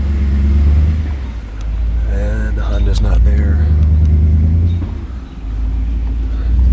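Car engine in a driveway holding a low, steady idle rumble that swells twice as the throttle is opened, with someone talking over it partway through.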